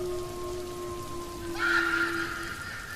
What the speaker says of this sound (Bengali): আকাশ ভেঙে বৃষ্টি হচ্ছে